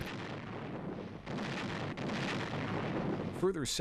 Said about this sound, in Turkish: müttefik kuvvet topçuları terk edilmiş şehri bombalamayı sürdürdü